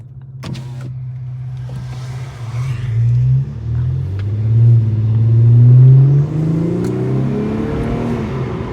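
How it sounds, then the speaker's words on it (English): An Infiniti Q50 on a night drive, its engine humming low then swelling as it accelerates, the rising drone rolling through several gear-like surges, close and loud with no talk. "And for those that actually want to listen to just the car"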